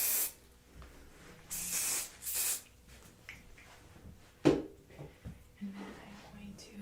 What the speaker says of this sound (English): I'm gonna get one more spray with the hairspray on the bottom.